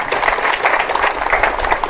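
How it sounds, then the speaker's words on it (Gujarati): An audience at a community assembly gathering applauds to honour a man asked to stand, close, fairly loud continuous clapping with a fluttering texture throughout. "બધાને હું વિનંતી કે આને તાળીથી વધાવો"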